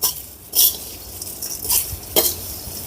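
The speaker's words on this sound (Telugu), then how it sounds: "ఇప్పుడు దీన్ని ఒకసారి బాగా కలుపుకుందాం" Fried pakodi being stirred into masala in a pan with the stove switched off: a spoon scrapes and clinks against the pan in three or four distinct strokes, close up, over a faint sizzle, no talk.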